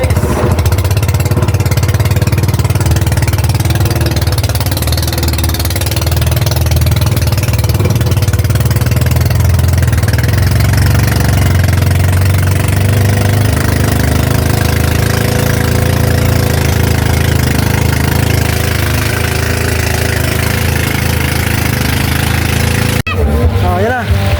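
A loud boat engine chugs and idles steadily throughout, a constant low rumble with a knocking rhythm, ending with a brief clatter.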